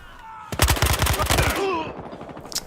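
A rapid burst of automatic gunfire rattles in Battlefield Hardline multiplayer, about a dozen close, evenly spaced shots over a second, followed by a fading rumble and a faint metallic clink.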